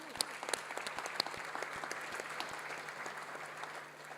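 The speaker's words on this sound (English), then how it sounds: "he does deserve a clap" Audience at a charity dinner applauding, a steady wash of many hands clapping with a few sharper claps near the start, moderately loud and continuous throughout, fading slightly toward the end.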